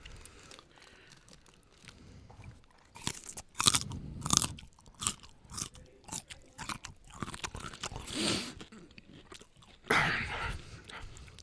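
Hard raw carrots crunched and chewed up close in a series of loud, crisp bites, with softer chewing between them; no talking.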